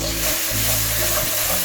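Spiced chicken mixture with black pepper and garam masala sizzling in a pan, a loud continuous fry with stirring scrapes and low hum underneath, no voices, lasting under two seconds.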